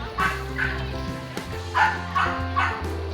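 A dog gives a series of short yips and barks, about five, fairly close, with a faint voice and background hum.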